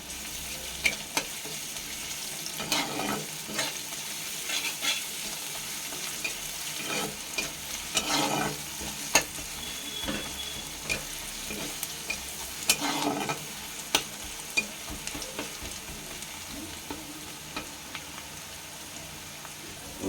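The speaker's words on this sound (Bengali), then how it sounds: "আদা রসুন পেস্টটা দেওয়া হচ্ছে" Ginger garlic paste fries with onions in a pan for a Bengali katla fish kalia; a constant soft sizzle runs under repeated spatula scrapes and stirring knocks, fairly quiet and close.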